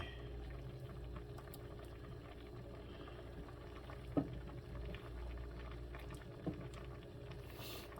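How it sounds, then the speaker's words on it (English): A pot of vegetable soup bubbles at a gentle, steady boil, a low continuous burble with a couple of small knocks. "Beautiful boil."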